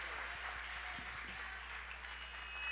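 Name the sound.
congregation applauding in church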